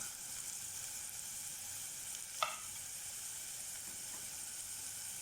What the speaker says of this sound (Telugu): పచ్చిమిరపకాయ ముక్కలు వేసుకుని బాగా ఫ్రై చేసుకోవాలి.